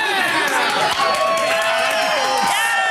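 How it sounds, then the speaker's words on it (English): An audience cheering and whooping for a guest arriving on a film show, a brief sustained burst of crowd noise with voices rising over it, close and loud. "I got one cheer"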